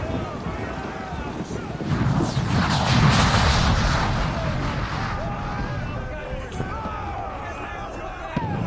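Ship cannon fire rumbles in Assassin's Creed IV Black Flag as a loud roll of blasts swells and then fades under wind and sea noise. A player speaks German during the fire.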